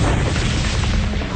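Bombs from a squadron of bombers exploding in a continuous, heavy low rumble of overlapping blasts, loud and dense throughout with no clear gaps.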